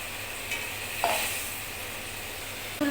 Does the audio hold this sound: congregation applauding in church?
no